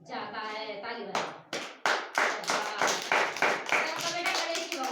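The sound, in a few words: hands clapping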